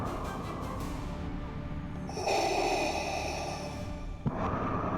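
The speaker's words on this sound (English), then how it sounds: "The sound of heavy, mechanical breathing echoes from within the ship as its ramp lowers to the ground." Slow, heavy mechanical breathing with a hollow, filtered rasp, a long inhale followed by a louder exhale, then a short sharp knock near the end, from within a ship as its ramp lowers.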